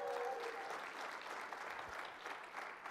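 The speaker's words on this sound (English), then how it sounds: "Give her a big round of applause" Audience applause fills a conference hall at a marketing and sales event, a steady, dense wash of clapping sustained throughout at moderate distance, with no talking over it.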